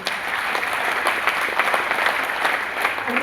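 Steady applause from a seminar audience in a hall, dense and continuous throughout, with a few faint voices mixed in.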